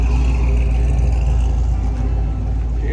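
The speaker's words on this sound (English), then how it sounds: "Here goes a little 56 Ford F100 rolling through, sounding good, looking good." A two-tone 1956 Ford F100 pickup rolls past at a car show, its engine a loud, steady low rumble that stays close and eases off slightly toward the end, with no talking.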